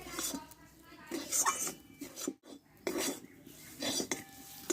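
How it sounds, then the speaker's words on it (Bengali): Mung dal being stir-fried dry in a pan: repeated metallic scrapes and clinks of a spatula against the pan in uneven bursts, with a voice talking over it. "এবার একটু ভালোভাবে কষে নিলাম ডালটা"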